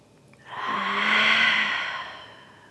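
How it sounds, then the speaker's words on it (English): A single long breath released through the mouth during a beginner yoga breathing exercise, swelling from about half a second and fading slowly over two seconds, close and soft with no talking. "we'll take a big filling inhale through the nose,"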